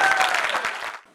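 Brief burst of crowd applause at an anniversary celebration for the event team, dense clapping that quickly dies away, with a faint voice at the very end.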